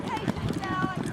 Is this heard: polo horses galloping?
yes